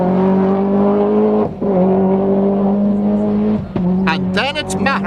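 A Toyota rally car driven by Austin McHale on a stage of the 1992 Donegal International Rally: a loud, close engine holding high revs with quick dips at gear changes, then rising and falling revs near the end, under a commentator's voice.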